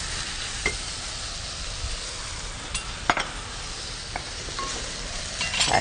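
Red onions dropped into olive oil in a pan for lasagna verde, a steady close sizzle with stirring and a few light clinks of a utensil against the pan.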